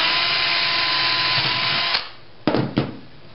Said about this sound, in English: then take a drill and drill in through the bottle and the tube.